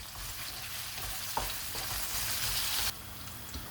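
Onions frying in a pan toward light golden for chicken keema with peas, a close, steady hiss of hot oil with scraping stirs, the sizzle swelling briefly before dropping back.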